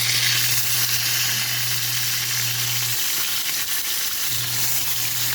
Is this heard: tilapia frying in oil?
yes